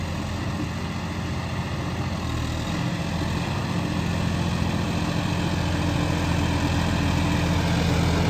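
A John Deere four-wheel-drive tractor engine runs at a steady idle, a continuous low droning rumble that holds even and unbroken from start to finish, with no voices over it.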